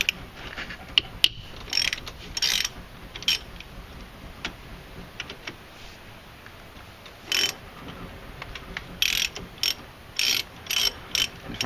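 A ratchet socket wrench loosens the 14 mm front brake caliper bolts on a 1998 Ford Escort, giving bursts of quick clicking at close range, sparse at first and then more frequent, with quiet gaps between them.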